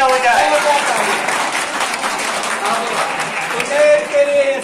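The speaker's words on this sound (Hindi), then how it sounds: "तो इस नन्हे बच्चे के लिए जोरदार तालियां हो जाए।" At a school quiz competition, a dense burst of applause from the audience rings out for a young child contestant, with voices mixed into the clapping throughout.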